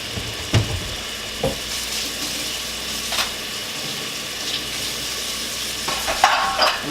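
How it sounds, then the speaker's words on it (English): Onions dropped into hot oil for an Arabic stuffed potato dish hiss in a loud, steady sizzle, with a few spatula clacks and stirring scrapes punctuating the close frying. "Our oil is hot. Put all of your onions in."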